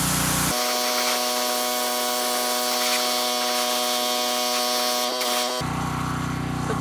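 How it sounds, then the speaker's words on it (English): A loud, steady hiss of water spraying to rinse a plastic surface treated with chemical stripper, with a tonal motor hum underneath, running for several seconds before cutting off abruptly. "I'm going to spray it off and see what it looks like."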